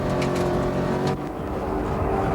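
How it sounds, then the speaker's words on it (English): A big V8 Ford Mustang race car climbs Pikes Peak at high altitude, its engine droning loud and steady close by, then dipping briefly as the note shifts down and carries on. "This big V8 Ford Mustang just not used to running in this higher altitude"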